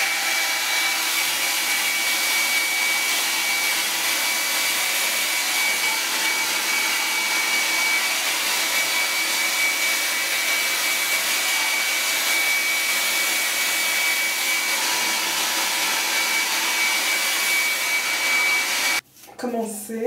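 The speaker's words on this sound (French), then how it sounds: "Voilà, un bel sèche-cheveux." A hair dryer blows steadily and loudly while hair is straightened, a constant broadband whoosh with a faint high whine running nearly twenty seconds before cutting off abruptly near the end.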